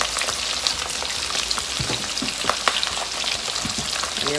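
Fish frying in a pan for escovitch fish, a continuous close crackling sizzle with scattered sharp pops like rain on a surface, steady and fairly loud throughout.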